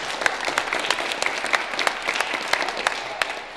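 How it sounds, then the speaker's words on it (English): An audience applauds at a talk with a run of distinct, fairly crisp claps over a steady bed of clapping, sustained at moderate loudness throughout. "And I believe that deserves a round of applause."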